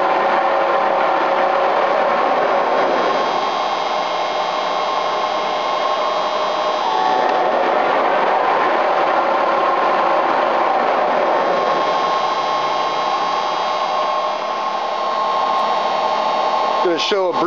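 A Webster & Bennett vertical boring and turning machine's main chuck runs with a loud, steady mechanical whine and hum, its pitch shifting partway through as the brake is applied, with a brief clatter near the end.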